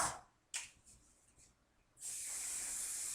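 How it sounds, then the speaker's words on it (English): Two short bursts of aerosol hair spray, the second a steady hiss lasting over a second, close up with no talking. "I'm going to spray just a bit."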